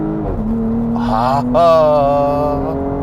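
Porsche Cayenne facelift with a 3.0 V6 and conventional automatic gearbox in Sport Plus mode, revving up through the gears; a steady engine drone climbs, briefly drops at a shift, then rises again, loud and close, with no talk.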